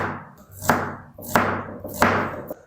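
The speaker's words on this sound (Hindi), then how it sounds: "प्याज को ना आपने स्लाइस में बिल्कुल बारीक बारीक कट करना है।" A knife finely slicing onion on a board, four distinct chopping thuds at an uneven pace, each landing close and fairly loud.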